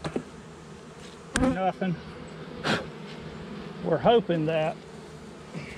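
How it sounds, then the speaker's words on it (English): Honey bees buzzing around a backyard hive during an inspection, a steady drone beneath someone speaking close by. "These bees over here, we don't ever do anything to them."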